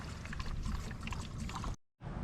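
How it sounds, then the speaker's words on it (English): Antifreeze glugging from a bottle down the skimmer line of an inground pool during closing, a steady gurgling pour close to the mic that cuts off abruptly near the end before faint background noise returns. "So the antifreeze will just get dumped down the hole that all your water was blowing out."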